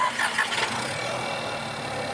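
A Skoda Kushaq 1.0 TSI three-cylinder engine catches with a short starting burst, then settles into a steady, even idle that stays close and moderately loud with no talking.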